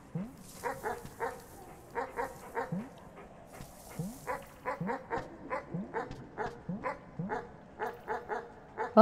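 Rapid, close barking from a dog in the video game Animal Well: clusters of short, sharp yips repeat with small gaps between them, mixed with faint whimpering slides, over a quiet background with a few soft chimes.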